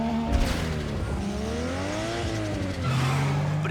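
A race car launches in Need for Speed Underground 2, with a steady, loud engine roar whose pitch sweeps upward as it revs, plus a sharp tire squeal near the start and a louder surge near the end. No voices.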